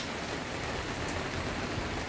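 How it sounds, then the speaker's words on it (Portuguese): Steady rain falls outdoors, a dense, even hiss of drops hitting surfaces that continues without pause, fairly soft and constant with no talking. "Tá chovendo, gente,"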